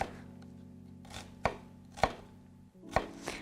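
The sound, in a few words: eggplant being cut with a knife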